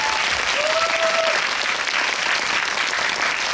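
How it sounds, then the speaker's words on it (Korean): A cinema audience at a post-screening talk for the Hedwig film at COEX Megabox breaks into loud, sustained applause, a dense continuous clatter of many hands that fills the room, with a brief whistle-like tone early on. "두 분께 큰 박수 한번 부탁드리겠습니다"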